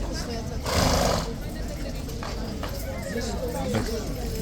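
A horse pestered by flies lets out a rough, breathy neigh, loud and close, with a few later snorts and shuffles beneath a steady murmur of people talking.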